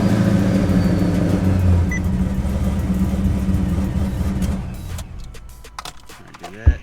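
A Pontiac G8 engine cranks and catches on a newly programmed key, settling into a steady idle hum under a voice speaking, then fading out with a few clicks near the end.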